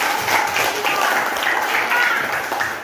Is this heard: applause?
yes